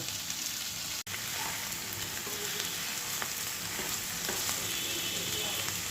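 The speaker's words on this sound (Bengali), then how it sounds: "ভাজা পনিরগুলোও এটার মধ্যে আমি দিয়ে ভালো করে কষিয়ে নেব" Fried paneer cooking in a yogurt masala for navratan korma, a dense unbroken sizzle of frying close up, with faint spatula ticks and a single short break near the start.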